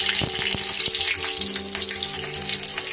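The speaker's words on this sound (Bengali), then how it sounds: "তেলের মধ্যে দিয়ে দেব কালো জিরে ফোড়ন আর দিয়ে দেব কাঁচা লঙ্কা" Black cumin seeds and green chillies sizzle steadily in hot mustard oil, a loud, continuous frying hiss with a few sharp pops and crackles near the start.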